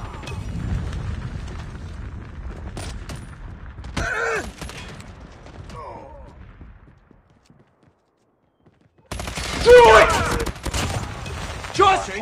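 Assault rifle fire from the shooter game Call of Duty Mobile, with bursts of loud broadband crackle and booms, a quiet gap midway, then a renewed dense burst of shots near the end amid game voices.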